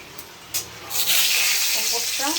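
Food marinated with salt and turmeric dropped into hot oil, a quiet start with a couple of light knocks, then a loud, close sizzle bursting up and holding steady.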